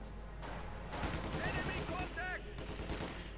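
A Maxim machine gun fires in Company of Heroes 2. Bursts of rapid gunfire rattle through the whole stretch amid the battle noise, with a voice talking over them.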